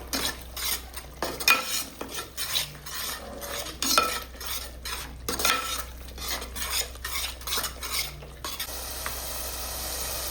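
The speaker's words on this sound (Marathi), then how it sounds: "दोन मिनिटासाठी परतून घ्यायचा आहे हा मसाला परत एकदा" Mutton masala mixed with Kolhapuri chutney is stirred and sautéed in oil in a pan, with a steady close sizzle and repeated scraping strokes of a spoon against the metal throughout, no voices.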